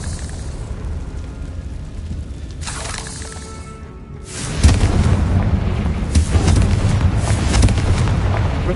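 Blasting-curse explosions in Hogwarts Legacy, a hissing crackle followed by a deep booming blast that swells midway and rumbles on with further bangs, loud and close with no talk.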